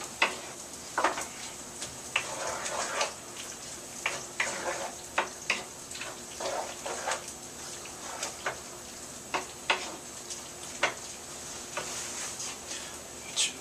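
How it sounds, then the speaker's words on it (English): Pasta is stirred into cheese sauce in a pan, giving soft, close scraping strokes with sticky squelches and spoon taps at an uneven rhythm over a faint, steady sizzle and hiss. "Stir in the pasta."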